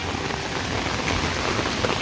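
Heavy monsoon rain pours down by the Kajali river in the Konkan, a dense, steady hiss of drops drumming on surfaces with no talk.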